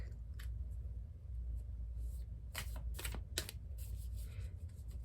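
An oracle card deck being shuffled, heard as quiet, close bursts of riffling and card slaps in uneven clusters over a low background rumble, with no talking.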